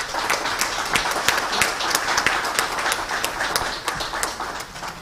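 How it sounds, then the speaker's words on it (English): Audience applause fills a conference hall at the opening plenary of an annual health-systems conclave, dense steady clapping with sharper individual claps standing out, sustained and fairly loud throughout. "I would like to give everybody a big round of applause for being here with us today."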